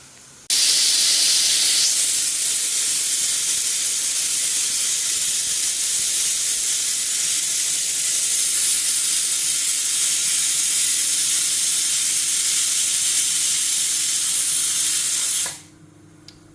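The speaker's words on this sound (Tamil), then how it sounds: "குக்கர் விசில் வருது" A pressure cooker whistle releases a steady, loud hiss of steam continuously for about fifteen seconds, then cuts off abruptly.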